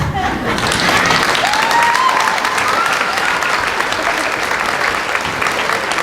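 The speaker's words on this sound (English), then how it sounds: "Let's give them all a big round of applause." An audience applauds loudly at a talent competition, a dense wash of clapping that carries on steadily throughout, with a few voices mixed in.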